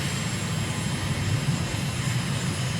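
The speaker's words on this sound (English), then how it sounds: "Engine run-up's completed." Aircraft engine run-up in Microsoft Flight Simulator: a steady, continuous engine drone with a low rumble that holds at an even level throughout, with no voices heard.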